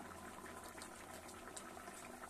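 Rui fish curry with potol bubbles in a pot, a faint, continuous simmering burble with small pops, close and quiet, with no talk.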